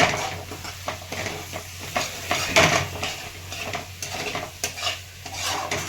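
Utensil scraping and stirring egg bhurji in a hot pan, with steady clinks and scrapes over a soft sizzle and no talking.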